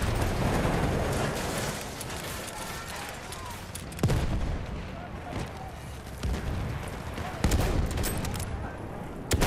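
Battlefield 1 multiplayer gunfire: loud bursts of close automatic fire with sharp bangs and distant booms, continuous across the span, while someone talks over it.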